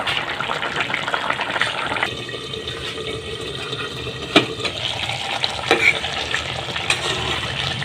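An Assamese fish curry with turoi (ridge gourd) simmers in a pot, giving a steady bubbling, hissing wash with a few clicks and knocks against the pot, and no voices.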